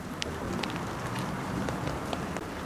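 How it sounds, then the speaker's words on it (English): Steady rain falls outdoors in a wet wooded setting, a constant soft hiss broken by scattered close drips and taps landing nearby. "it's raining right now"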